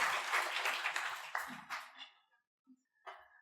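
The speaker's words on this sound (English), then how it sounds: "So a great round of applause to the orator" Faint audience applause for a lecturer at a tech conference, a brief patter of clapping that fades out within about two seconds, followed by a few quiet stray sounds.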